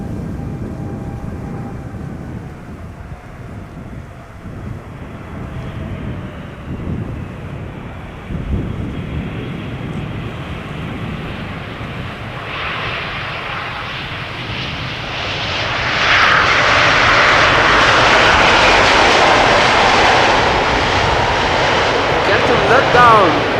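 An Atlas Air jet arriving from Miami lands at Amsterdam Schiphol with only idle reversers, a distant rumble swelling into a louder, sustained engine roar in the final seconds, with talk faintly present.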